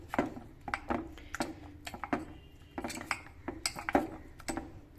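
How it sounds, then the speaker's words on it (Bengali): A spoon mixes sugar into batter in a bowl, making close, rhythmic metallic clinks and scrapes in quick irregular strokes. "আবারও ভালো করে এটা মিশ্রণটাকে আমি মাখিয়ে নেব"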